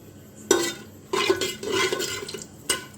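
Whole cumin, cardamom and dried chillies in oil are stirred in a pressure cooker: a few short scraping sweeps and clinks of a spoon against metal between brief pauses, close and moderately quiet, with no voices.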